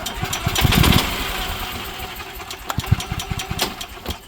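An EZ GO golf cart engine with its choke engaged runs steadily in neutral, a close, loud mid-pitched putter with uneven knocking pulses through the clip.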